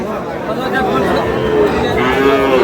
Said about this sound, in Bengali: কেমন দামে শাহিওয়াল জাতের ছোট ছোট ষাঁড় বাছুর গরুগুলো বেচা কেনা হচ্ছে